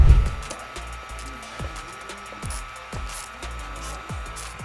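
A heat gun blows a steady, even airflow hiss while post-heating tint film on a car taillight, droning continuously at close range with no talk.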